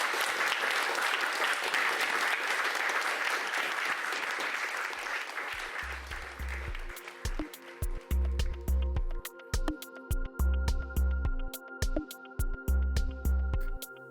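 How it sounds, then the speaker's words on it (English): Applause from an audience at the end of a talk at a Buddhist centre in Berlin fills the first half with dense clapping, then fades while music takes over. "Let's give these three another round of applause."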